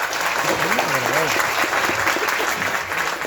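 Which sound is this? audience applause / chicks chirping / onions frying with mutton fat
audience applause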